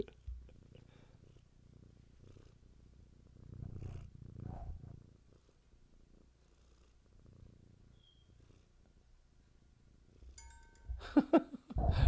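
A cat purrs softly and steadily right against a microphone, with rustling and rubbing noises, and a few sharp clinks near the end.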